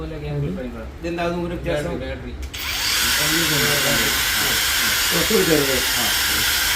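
A Makita rechargeable rotary hammer drill starts up after someone speaks, then runs steadily with a loud, continuous high whine close by while his voice continues over it.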